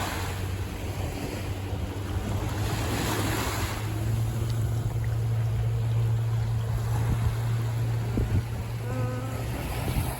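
Ocean surf rolling in at Tanjung Point in Penang around sunset, a steady wash of waves mixed with wind buffeting the microphone and a low engine hum from a boat or jet ski offshore.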